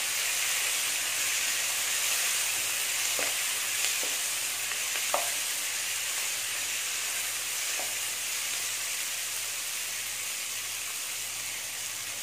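Tomatoes sauté in a pan for a coconut crab gravy, giving a steady loud sizzle and hiss that runs throughout, with a few faint clicks of stirring.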